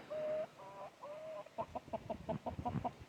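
Chickens and roosters make a few drawn-out calls, then cluck in a quick rhythmic series, close by and fairly clear.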